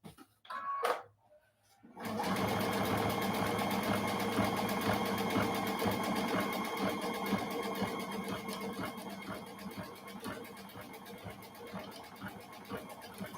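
After a few brief knocks, a sewing machine starts and runs steadily, stitching butterfly shapes on fabric with a fast, even whir that fades slightly toward the end, close and alone.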